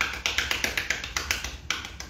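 A small group claps in quick, uneven bursts to welcome a guest onto a dance lesson, with sharp close hand claps repeating for about two seconds and no talking.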